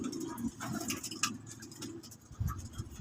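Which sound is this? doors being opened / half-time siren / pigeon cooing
pigeon cooing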